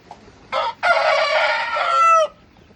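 A native country fighting rooster on a farm at Kunavaram near Tadepalligudem gives a short call, then one long, loud, close crow that ends in a ringing, drawn-out note, against a quiet background.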